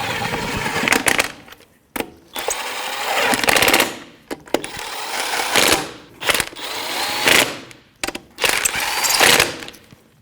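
Ratchet with a 19mm socket running lug nuts snug on a Jeep Patriot 2.4L front wheel, heard as loud rapid clicking bursts of about a second each, repeated several times with brief pauses between.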